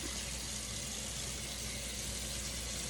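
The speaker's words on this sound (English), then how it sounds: "I'm rinsing the milk out of it" Cold tap water runs steadily over a batch of homemade butter being rinsed, a continuous even hiss and splash that holds the same level throughout, with no voices.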